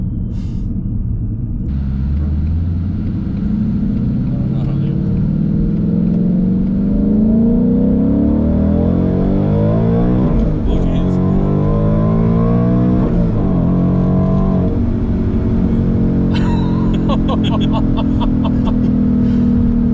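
A supercharged Ford Mustang engine with a ProCharger rumbles and revs up repeatedly, pitch climbing and falling across several pulls, loud and close, with a brief voice late on.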